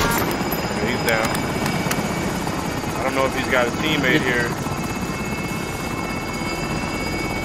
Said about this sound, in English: There's three fucking helicopters up there.